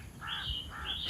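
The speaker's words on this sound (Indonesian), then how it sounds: "Nih burung gagak lagi." Crows cawing outdoors in Malaysia, two harsh, drawn-out calls with a short gap between them, moderately faint and captured on a phone.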